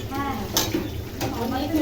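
Soybean masala with potatoes stirred in a pan, with utensil scrapes and a soft sizzle running beneath continuous background voices, brief clatters standing out near the start and again about halfway through.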